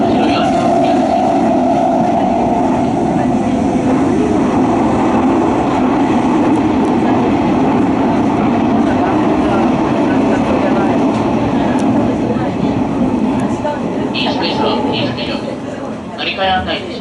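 Hanshin rapid express train bound for Kobe-Sannomiya, a loud continuous rumble of the train running with faint rail clatter, heard from inside the carriage throughout.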